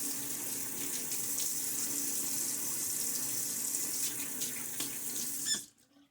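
Water running steadily from a faucet into a sink while shaving with a Gillette New Short Comb safety razor and Personna 74 blade, a continuous close hiss with faint squeaks, then shut off abruptly near the end.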